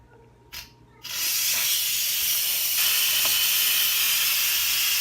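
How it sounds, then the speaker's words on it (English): A faint click, then a loud, steady hiss of steam bursting out of an Instant Pot pressure cooker cooking chicken paprikash, continuing without pause, close and constant. "There we can see the steam coming out."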